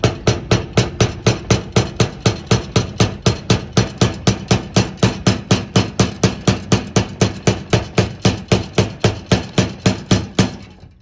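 Screwdriver tapping around a GM fuel pump sending unit lock ring, a long run of sharp metallic strikes in a steady rapid rhythm, about three per second, loud and close with no talk.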